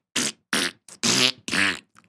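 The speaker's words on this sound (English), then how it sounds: "there are fart machine noises constantly" Repeated fart machine noises from a film, five short blasts of varying length with gaps between, loud and close, no talk over them.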